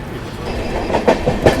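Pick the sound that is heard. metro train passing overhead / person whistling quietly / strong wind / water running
metro train passing overhead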